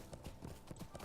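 A newly bought horse in Lord of the Rings Online trots along with quick, even clip-clopping hooves at a steady rhythm, close and fairly soft.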